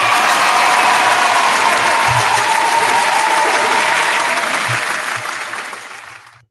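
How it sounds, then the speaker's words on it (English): Studio audience applause for Dennis Hobbs on a hip-hop mixshow, a steady loud wash of clapping that fades away toward the end. "Let's round of applause for Dennis Hobbs."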